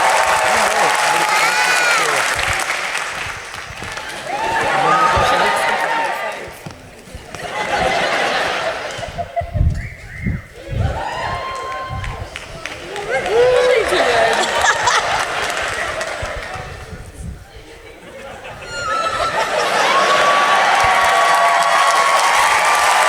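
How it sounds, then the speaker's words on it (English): An audience at a Comic-Con Wales panel applauds and cheers for Peacemaker, with bursts of laughter and chuckles rising and falling through a loud, sustained crowd roar; a few whoops and some scattered voices surface in a quieter middle stretch. "Give him a round of applause"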